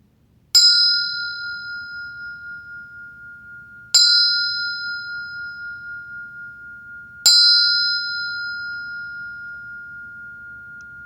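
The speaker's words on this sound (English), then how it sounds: "I'll sound the bell." A meditation bell is struck three times at slow, even intervals, each bright ring sustaining and fading gently in a quiet room.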